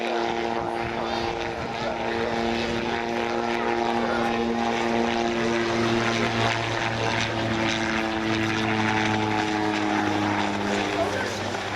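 A Calidus autogyro flying at the Air Waves Portrush 2016 air show, its propeller engine droning steadily and loudly with a sustained buzzing hum throughout, while a commentator talks over a public address system.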